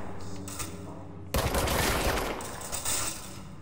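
Gunfire in the video game Control: after a moment of steady background, a loud, dense burst of shots erupts and dies back to rumbling game ambience.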